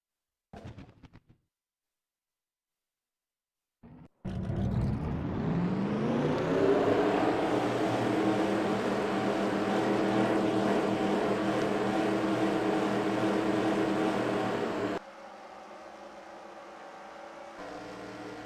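In a NASCAR-style racing video game at Texas, a field of 42 race car engines fires up after near silence. A loud, steady, droning roar rises and holds, then shifts to a lighter engine tone near the end.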